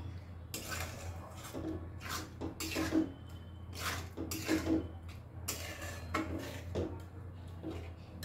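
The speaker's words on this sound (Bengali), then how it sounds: "আবারও খুব ভালো করে নাড়াচাড়া করে নেব" Kochu leaves and shrimp are stirred in a metal pan, a spoon scraping and clinking against the pan in repeated irregular strokes, close and clear over a low steady hum.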